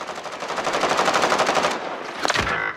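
Rapid automatic gunfire in Call of Duty: Warzone rattles in a sustained burst, followed by a couple of sharper blasts, loud and close like game combat sounds.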